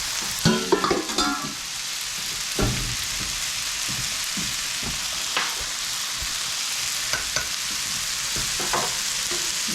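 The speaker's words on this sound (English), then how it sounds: "we just want to brown up our hamburger before we add it into our soup mixture" Ground hamburger meat browns in a soup pot with a continuous close sizzle. A spoon scrapes and stirs it in clustered bursts near the start and again at intervals, with no talking.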